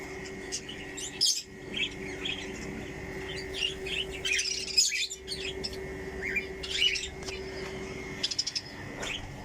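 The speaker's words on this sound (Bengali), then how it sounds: "এই হচ্ছে পাখিদের লাভ বার্ডগুলো, সবগুলো একসাথে এসে বসছে" Several lovebirds chirp and tweet in quick bursts at a bird farm, overlapping calls rising and falling against a steady outdoor background hum.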